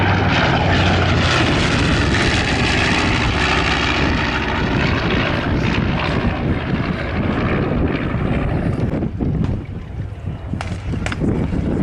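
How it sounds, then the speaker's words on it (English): The World War II aircraft Panchito flying at an air show, a loud, steady piston-engine propeller roar that fills the whole stretch and eases slightly near the end as it passes. "Paul Newer and Sid Vicious Jones at the controls of Panchito today."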